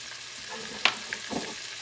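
Fresh sofrito fries in a pan with a steady high sizzle, broken by a few brief utensil scrapes and stirring knocks, close and alone with no talking.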